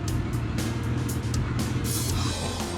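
A 1979 Kawasaki KZ650SR motorcycle ridden on the road, its engine a steady low drone with broadband wind rush throughout, close and continuous with no talking.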